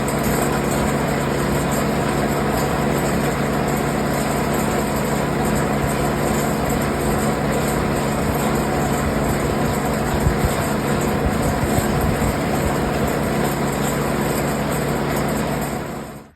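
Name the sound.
snow blower engine running after refuelling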